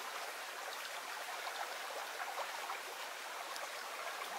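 A mountain stream running off Hay Bluff toward the River Wye, its steady broadband rush of flowing water continuous and fairly close throughout, with no voices.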